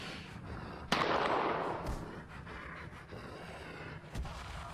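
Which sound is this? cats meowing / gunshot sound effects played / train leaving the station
gunshot sound effects played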